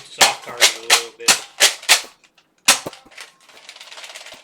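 Nerf Hyper Impulse 40 blaster firing at a soft target, six sharp evenly spaced pops, a short gap, then one more shot followed by rattling mechanical clicks, close and loud.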